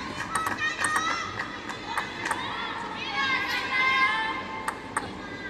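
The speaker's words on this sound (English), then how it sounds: "Pretty good mix of crowd support here for these two." Mixed crowd noise at a WTT Champions Chongqing 2025 table tennis match between Hina Hayata and Huang Yi Hua, with steady murmuring, shouts and scattered sharp taps, moderately loud throughout.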